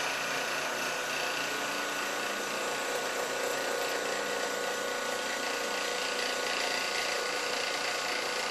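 A five-function lathe drilling a hole, running as a continuous bright, even whine and grinding hiss that stays steady and fairly loud from start to finish with no talking.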